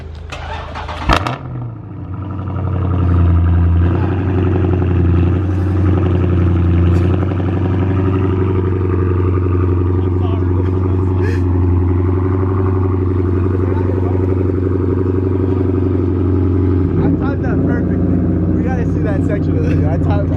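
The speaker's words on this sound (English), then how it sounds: "They have the super loud cars." A loud, fast car engine roars close by at a car event, with a sharp burst near the start, then a sustained heavy drone that eases near the end while people talk over it.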